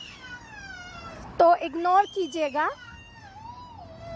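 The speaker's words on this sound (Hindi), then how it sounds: "आप रोना पीछे बैकग्राउंड में सुन सकते हैं, ये मेरी भतीजी रो रही है" A young girl cries in the background with wavering, high-pitched wails that rise and break in several bursts while someone speaks over them.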